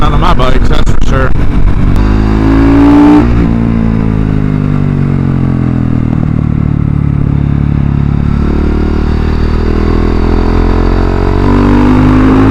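A modified Husky 701 motorcycle roars through a tunnel; loud rapid revs up front give way to a sustained, booming engine drone that echoes off the walls.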